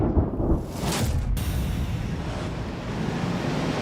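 A thunderstorm in Colombia: a sharp crack near the start, then a heavy, steady rumble of rain and wind, loud and close.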